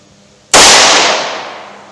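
A single loud, sharp pistol shot from a pocket-size handgun firing .38 Special or .380 ACP rounds cracks suddenly after a quiet moment, then decays over about a second and a half; no one talks.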